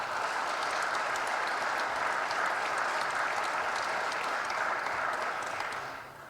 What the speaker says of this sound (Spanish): para quien pido un fuerte aplauso